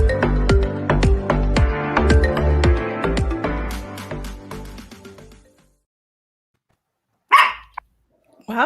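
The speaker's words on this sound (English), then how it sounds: "my doggy wants to be part of the show today" A dog barks once or twice nearby, sharp and loud, after a stretch of music stops and a few seconds of silence.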